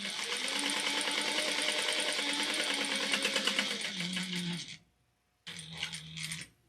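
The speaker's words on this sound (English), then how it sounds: "we're going to sew down the side panels at 1/4 of an inch" A home sewing machine runs in steady, fast stitching bursts as it sews the side panels of a fabric bin at a quarter inch, then stops briefly and starts again; close and fairly loud, no talking.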